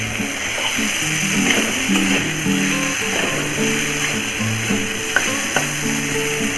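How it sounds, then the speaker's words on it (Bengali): Yardlong beans frying and being stirred in a pan for a mashed bean dish, with a steady close sizzle of hot oil and repeated scraping clatter of the spatula throughout. "আর বেশিক্ষণ ভাজবো না ভাজা ভাজা হয়ে গেছে আর একটু নাড়াচাড়া করে তারপর নামিয়ে দেবো"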